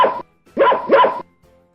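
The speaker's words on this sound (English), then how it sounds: "Dog." A dog barks three times in quick succession, close and loud, followed by a brief faint sound.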